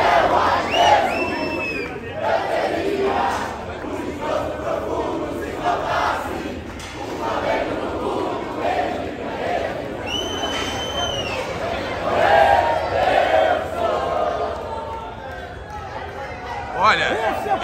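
Flamengo football fans chant together as a crowd, a dense, continuous roar of many voices with occasional whistles over it, while nearby people talk throughout.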